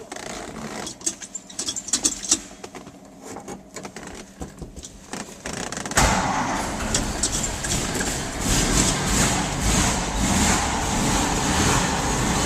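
The engine of a 1947 Studebaker M15 pickup, a parade truck fitted with an electric fuel pump, cranks unevenly for several seconds, then catches and runs in a loud, steady, close idle with a rough rumble.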